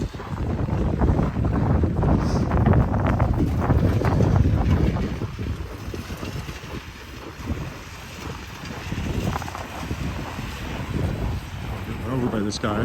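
Cold winter wind at minus 19 buffets the microphone during a walk along a creek in Regina in January, a loud steady roar that eases partway through, with someone talking over it.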